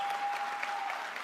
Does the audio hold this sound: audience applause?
yes